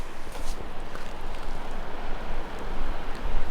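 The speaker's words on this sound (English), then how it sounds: "That's not wind, that's water from the glacier runoff." Meltwater running off a glacier on the Kenai Peninsula in Alaska, a steady broadband rush and trickle heard alone at close to moderate distance, with faint wind-like hiss throughout.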